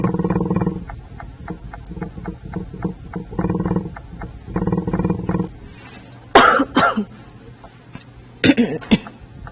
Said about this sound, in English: I have to apologize for the coughing.